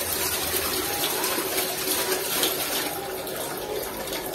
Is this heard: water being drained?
yes